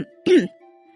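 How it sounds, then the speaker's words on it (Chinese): A voice performer in a Chinese audiobook drama gives one short, feigned dry cough that blends into a throat clearing. It is close and clear, set against near silence. "林志远装模作样的干咳两声"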